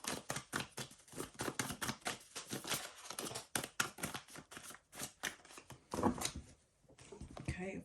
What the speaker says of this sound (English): Let me just shuffle them first really good